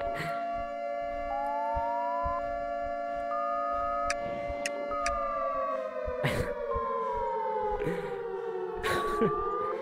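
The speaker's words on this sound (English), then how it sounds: "Pull the fire alarm." A steady, sustained fire alarm siren drones in a VR video game, with a continuous tone that slowly slides in pitch and scattered clicks and thumps over it.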